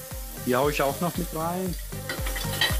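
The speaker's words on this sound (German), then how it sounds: "Einmal scharf anbraten, dann wird's wieder ein wenig flüssig in der Pfanne." Walnuts and fresh button mushrooms fry in a pan with a steady sizzle and occasional stirring, heard under someone talking close by.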